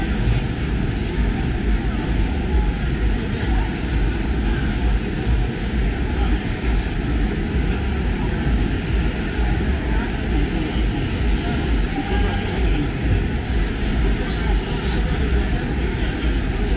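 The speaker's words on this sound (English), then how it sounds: "That's an aeroplane kind of like landing." An aeroplane comes in to land near an expo in Tanzania, its engine roar loud, continuous and unbroken throughout.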